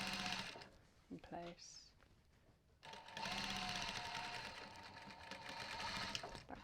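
A sewing machine stitches fabric for a bumbag in steady whirring runs, stopping briefly partway through and then starting again close and loud, with a few quiet spoken words.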